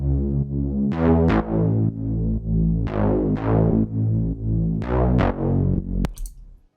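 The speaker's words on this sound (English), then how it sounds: "Then we copied the bass notes of the break and copied it into a drop bass" A synth drop bass built from the Cosmic preset, two Serum oscillators with a saw wave, plays a pumping series of sustained bass notes with bright plucked attacks, loud and alone, ending with a short noisy burst.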